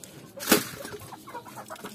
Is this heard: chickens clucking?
yes